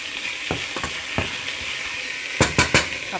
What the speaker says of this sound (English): And I will saute it.